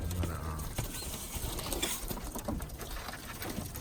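Birmingham Roller pigeons in and around their loft, with soft wing flutters, light pattering and cooing-like bird sounds over a steady outdoor background, moderately close and continuous for a few seconds.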